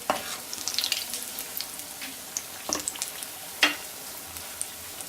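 Potato bondas frying in hot oil, a steady close sizzle and crackle with brief louder bursts as they are turned, no voices.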